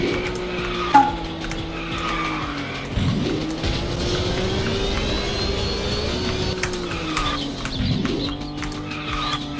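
A go-kart in the KartRider racing game drifts with a steady engine drone and sustained tire skid squeal, bending in pitch through turns and loud throughout with no talk.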